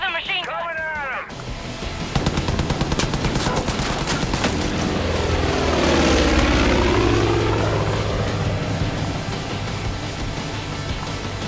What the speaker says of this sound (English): That plane's gonna rip us to pieces!